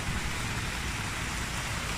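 Steady rain falls in a backyard, a constant close hiss of drops across the whole moment with no pauses and no voices.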